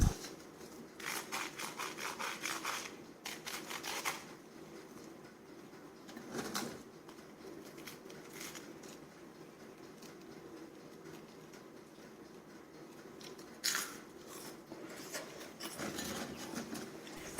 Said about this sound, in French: ce sont des frites XXL hyper crispy